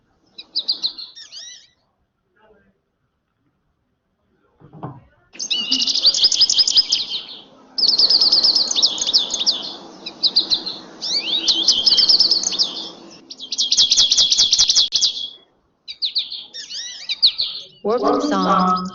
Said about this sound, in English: Warbling song, potato chips, flight call, and baby of the American goldfinch.